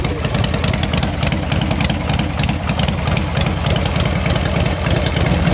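Harley-Davidson motorcycle engine running on full choke, a loud, close, even idle with a fast, regular low pulse and no talk.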